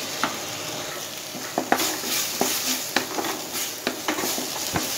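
Onion-stalk paste frying in a pan: a loud, continuous close-up sizzle with repeated crisp spatula scrapes and taps at an irregular rhythm.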